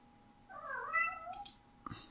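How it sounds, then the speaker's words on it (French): A female cat gives one drawn-out, desperate meow that rises and wavers, close and clear against a quiet room, followed by a brief click or knock at the end. "et le miaou désespéré que vous avez entendu, ça vient de ma petite chatte."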